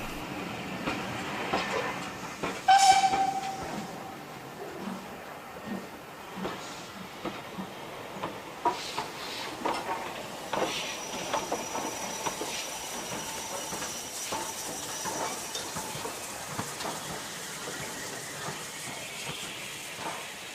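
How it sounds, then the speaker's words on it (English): A train climbing a steep 1 in 49 gradient labours along with steady rumbling and hissing, clattering wheel noise and occasional sharp bursts, working hard at a constant heavy pace. "We are letting the train take the strain up the 1 in 49 gradient"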